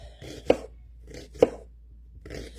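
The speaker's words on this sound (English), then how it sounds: "We're going to go ahead and cut up our shallot." A knife chops a shallot on a cutting board, with three crisp, evenly spaced thuds, close and clear over a quiet kitchen background.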